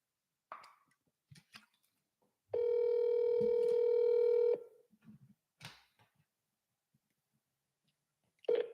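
A telephone call is placed: a few scattered clicks and soft taps, then a steady two-second tone, more clicks and a brief tone burst at the end, all quiet and close.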